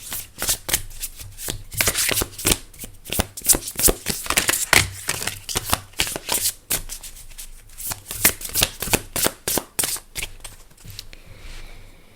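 Tarot cards are shuffled close up in rapid riffling bursts, with quick slaps and flutters of the deck in uneven clusters and short pauses between them, and no voices.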